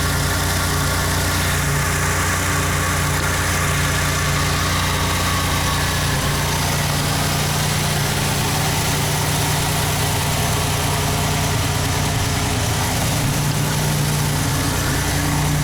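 A 1987 Buick Grand National engine idles steadily just after starting, running rich with a constant low rumble and vibration, loud and close with no talking.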